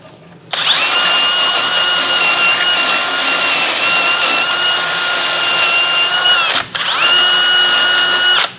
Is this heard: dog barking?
no